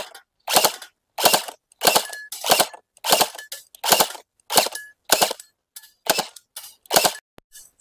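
Guns fire during a shooting round at a Kerala resort, with about a dozen sharp, loud cracks spaced roughly half a second apart in a steady rhythm and silence between shots.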